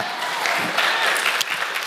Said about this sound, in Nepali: मण्डली ताली बजाएर प्रभुलाई धन्यवाद दिउँ न